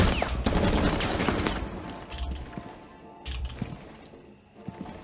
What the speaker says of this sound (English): if I do this, they start firing at me, but if I do that, they don't even fire